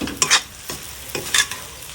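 Food is stir-fried in a pan, giving a soft steady sizzle broken by a few brisk scraping stirs in irregular bursts, close and moderately loud.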